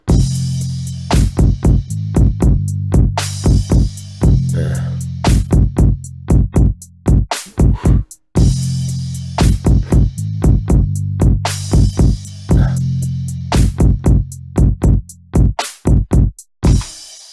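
A loud, steady beat with a deep sustained bass line and punchy drum hits repeating in a looping pattern, no voices.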